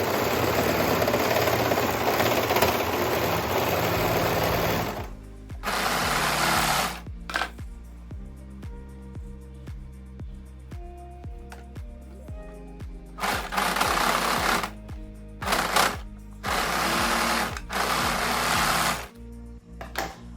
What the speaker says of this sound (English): Next, I'm going to overlock my side seam to neaten the seam allowance.